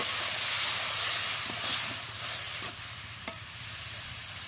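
Mixed vegetables including ridge gourd and snake gourd sizzle steadily in a hot pan, a continuous close frying hiss with occasional stirring scrapes and no talk.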